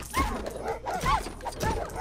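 Three yipping, whimpering barks from a dog in the Lego Worlds video game, evenly spaced and fairly loud, each one a short rising-and-falling cry.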